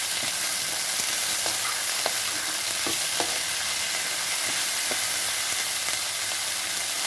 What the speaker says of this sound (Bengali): ব্রোকলি দেবো, দিয়ে একটু নেড়ে চেড়ে নেবো ভালো করে।